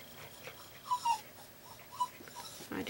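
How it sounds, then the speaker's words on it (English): A dog whimpers indoors with soft, high, short whines, a couple close together then another after a pause, faint and near in a quiet room. "my dog just came in here and she's just like carrying on"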